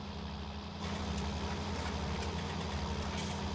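A tractor engine idles steadily in Farming Simulator 19, a continuous low rumble with a slight rise in level after the first second, heard alone without talk.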